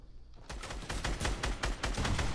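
Rapid bursts of gunfire in a multiplayer shooter video game, a dense run of loud close shots fired in quick succession for over two seconds after a brief quiet start.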